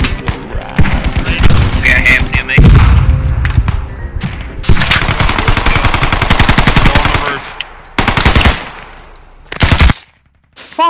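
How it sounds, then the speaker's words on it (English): Loud bursts of automatic gunfire and heavy thumps in the video game Squad, sustained volleys broken by short gaps, close and dominant, with brief voices underneath. "I jumped off and shot in the face."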